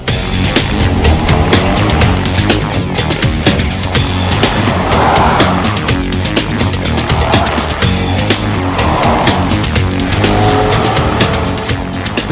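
A 2007 Mitsubishi Lancer GTS on a test drive, its engine and road noise loud and continuous throughout, with tire and wind roar under a steady drive and no talking.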